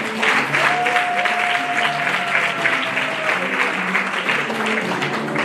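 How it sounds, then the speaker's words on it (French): A congregation claps steadily at a children's prize ceremony with awards from missionaries, sustained applause with a thin whistle-like tone briefly riding over it and faint voices beneath. "Ça s'acclame, s'il vous plaît, ça s'acclame"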